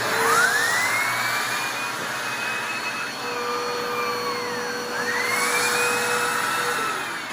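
A Bissell 2252 CleanView Swivel upright bagless vacuum cleaner runs close by with a loud, steady whine whose pitch shifts and swoops slightly as the motor load changes, with no speech.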